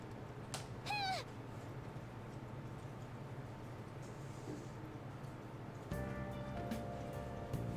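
Morgana, the cat in Persona 5 Royal, lets out a short rising meow over a quiet game soundscape with a low steady hum, followed later by brighter tonal menu chimes.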